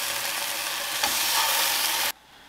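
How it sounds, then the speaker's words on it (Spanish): Asadero cheese browning in a hot frying pan that had held fritters, a loud steady broadband sizzle lasting about two seconds, then cutting off sharply to near quiet. "voy a poner a dorar el queso asadera"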